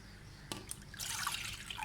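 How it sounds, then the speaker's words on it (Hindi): Thick tamarind pulp with seeds is strained, giving soft wet dripping and squelching sounds, a sharp tap at first, then a brief patch of trickling and liquid splatter close by, fairly quiet. "इसको मैं छान रही हूँ।"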